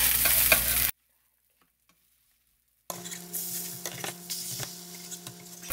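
Meat frying in a pan for Korean jeon side dishes, sizzling loudly, then cut to brief silence before softer sizzling with light stirring and clinks of utensils against the pan.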